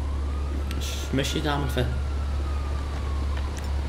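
Police siren in the video game GTA Online, a faint wailing tone rising and falling under a constant low hum, while someone briefly speaks.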